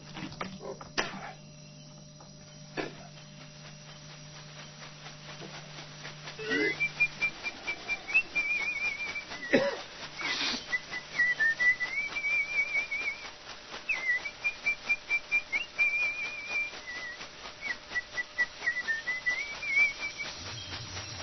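A shaman whistles a wavering melodic tune during an ayahuasca ceremony, soft and fairly close, accompanied by a run of quick rhythmic shaking beats from a leaf rattle.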